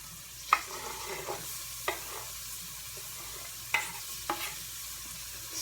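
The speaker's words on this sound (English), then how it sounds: "Stir them up real quick." Yellow onions frying in a pan for Spanish rice, stirred with a utensil; soft continuous sizzle broken by several sharp scraping stir strokes at irregular intervals, close and fairly quiet, no talking.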